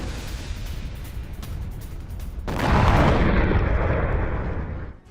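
Explosion during an attack on a shopping mall, a sudden loud blast swelling into a sustained rumbling roar that fades out at the end, over a background of noisy rumble.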